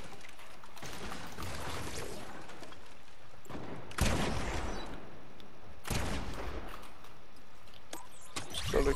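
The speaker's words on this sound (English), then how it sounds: "they shotgunned me through the window" Gunfire in Fortnite, a few loud bursts of shotgun blasts at about four and six seconds over a faint, busy game background.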